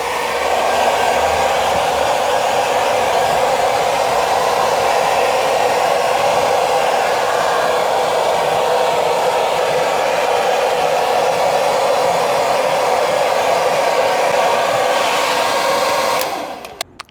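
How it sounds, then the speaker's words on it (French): Hair dryer on its lowest heat setting drying a repair coat on damaged leather, a loud steady whooshing blow held continuously and close for about sixteen seconds before it clicks off. "on va procéder au séchage accéléré, puisque ça se fait avec un sèche-cheveux pas trop chaud"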